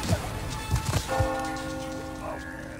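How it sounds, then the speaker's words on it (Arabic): A bell rings out in the Resident Evil 4 demo game, its sustained metallic tone carrying over earlier thumps and fading slowly, with no talk over it. "دق الجرس!"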